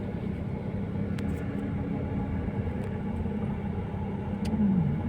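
A car driving along a road: a steady, low rumble of engine and tire noise heard from inside, with a few faint ticks and a slight swell near the end.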